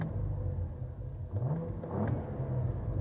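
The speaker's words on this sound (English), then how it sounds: "This is a great sounding V6." Cadillac CT4-V Blackwing V6 engine and exhaust humming low and steady, a deep rumble swelling slightly as revs rise, continuous without voices.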